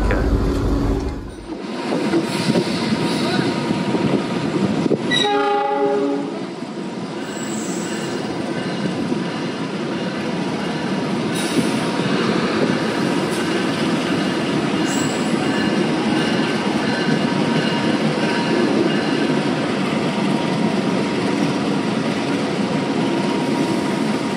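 The KA Mutiara Selatan passenger train runs on rails, heard from inside as a loud, continuous rumble and rattle of wheels on track, with a brief squeal and clatter early on.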